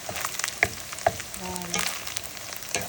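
Garlic sizzles in olive oil in a pan as cilantro rice cooks, a short steady crackle with scattered bright pops and a brief scrape of stirring, no talking.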